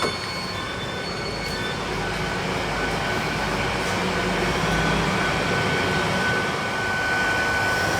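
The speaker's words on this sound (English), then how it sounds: "Here is this GWR Class 800 leaving Weston-super-Mare on its way to Cardiff Central." A GWR Class 800 train pulls away from Weston-super-Mare station with a loud, steady rumble and hum of traction motors, faint wheel squeal and high whine above, no voices.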